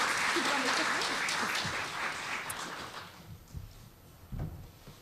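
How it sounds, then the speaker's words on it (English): Audience applause from a seated crowd, loud and dense at first, then thinning out and fading over the last seconds, with a few scattered claps and bumps at the end. "Another round of applause, please, ladies and gentlemen."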